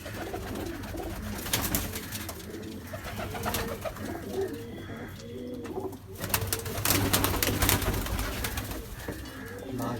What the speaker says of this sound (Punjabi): ਕੁਝ ਕਬੂਤਰੀਆਂ ਆਈਆਂ ਸ਼ੇਰਾ ਯੂਐਸਏ ਤੋਂ